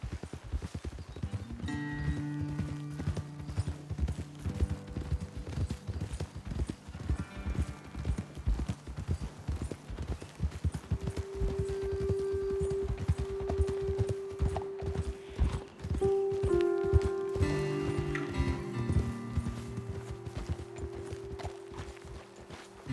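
Steady clip-clopping of horse hooves on a hard path in the video game Red Dead Redemption 2, rhythmic and close, with sustained musical tones rising in the background partway through.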